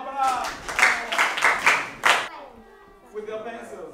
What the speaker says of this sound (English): Clap for yourself. Clap for yourself.